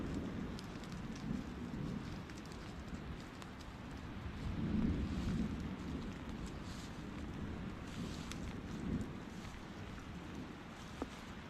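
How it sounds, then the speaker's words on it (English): Light rain falling through Appalachian woodland, a soft, steady patter on leaves and ground with faint low rumbles, quiet and continuous with no voices. "The rain is coming in. It's light, but it's coming down."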